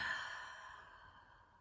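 A single long, soft exhale during a seated exercise routine, airy and close, fading gradually over about a second and a half with no talking.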